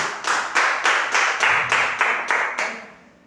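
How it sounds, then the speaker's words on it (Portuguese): A church congregation claps in unison during a worship service, about nine sharp rhythmic claps in a steady beat that fade out at the end. "As palmas louvam o Senhor Jesus."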